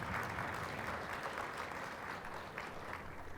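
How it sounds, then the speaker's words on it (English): An audience applauds at a DevTalks Bucharest tech conference on the web stage, with steady, dense clapping from a sizable crowd that stays fairly distant and soft throughout. Nobody speaks. "So big applause for Tamas"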